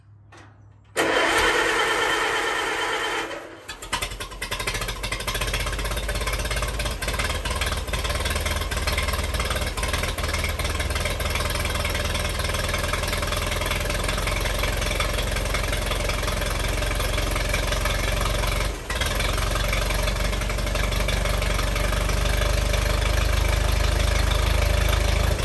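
An Allis Chalmers WD45 tractor engine cranks and catches on its first start, then settles into a loud steady close idle that runs on with one brief dip.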